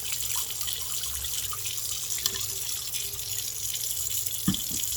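Water pouring and splashing out as a fodder tray is tipped and dumped, a continuous close watery rush with a couple of small drips and knocks near the end.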